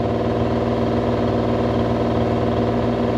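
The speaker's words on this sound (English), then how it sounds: "you can hear the engine now kind of kick back up a little bit" A mini excavator's diesel engine runs loud and close, holding a steady, heavy mechanical drone with a faint rise in pitch as it kicks back up.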